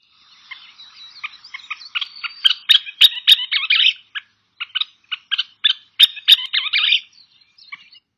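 Songbird calls in a backyard garden: rapid series of sharp, high chirps and metallic notes in bursts, clear and fairly close, with no talk.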